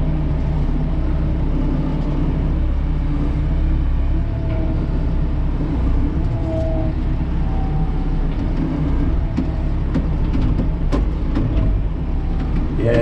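A Venieri pivot steer loader drives around a yard in second gear, its engine a steady, loud, close rumble with a continuous low drone throughout and faint clanks over it.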